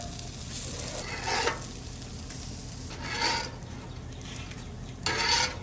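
Cinco de Mayo fritters frying on a flat griddle, a constant close sizzle of hot oil with three louder bursts of crackling as pieces are turned or pressed.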